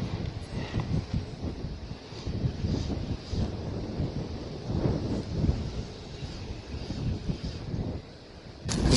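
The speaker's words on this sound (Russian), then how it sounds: "А вот с ветром это, конечно, проблематично" Steady wind buffets the microphone on a shoreline during spinning-rod fishing, a low rumbling gusty roar with no voices.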